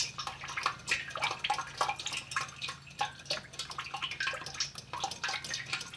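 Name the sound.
transmission fluid draining from Jeep Wrangler pan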